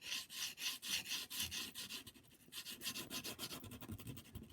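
Pastel stick rubbed onto a sandpaper surface while laying down an underpainting, a steady rhythmic scratchy back-and-forth rasp of repeated strokes, close but fairly soft, with no talking.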